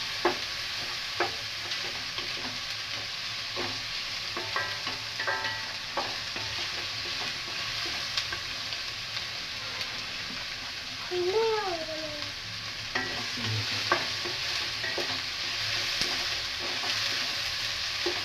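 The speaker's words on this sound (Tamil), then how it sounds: "இந்த அளவுக்கு வதங்கணும் வெங்காயம்" Onions sautéing in butter on a tawa while a roasted paneer masala is made, a steady sizzle and frying hiss with occasional scrapes and taps of a spatula stirring the pan.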